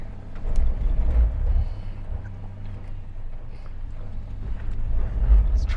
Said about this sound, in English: I have it in rock crawl mode, which automatically locks the center diff. So anyways, up we go.